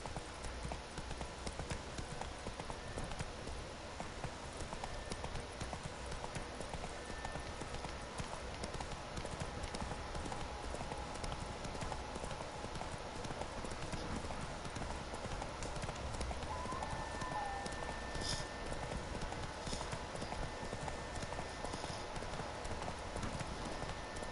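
The horse Roach gallops in The Witcher 3, steady clip-clop hoofbeats drumming in a continuous fast rhythm under faint game ambience for the whole stretch.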